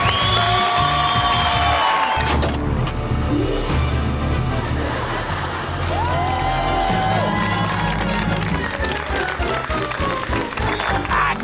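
Studio audience applauding and cheering on a Colombian variety comedy show, a dense, loud crowd roar with whoops and shouts alongside bright music tones throughout.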